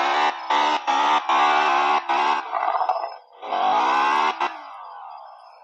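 Roblox video game car engine revving in loud, choppy bursts, then a longer rising roar, a dip and another sustained rev that trails off, with no talking.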